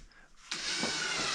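A drill driver set to a low torque of about 10 drives a screw into a particleboard IKEA Malm desk. After brief quiet it starts abruptly into a steady, close whirring buzz.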